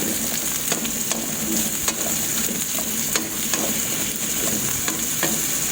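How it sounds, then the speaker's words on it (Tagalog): Squash and lemongrass sautéing in a hot pan, a steady loud sizzle with intermittent clinks and scrapes of stirring, close up and without talk. "So, igigisa ko muna siya."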